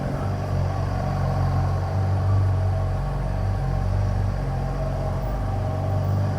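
A 2015 Kawasaki Ninja ZX10R sport bike rolls through repeated figure-eight loops, its engine a steady, low, continuous rumble at an even pace with no talking.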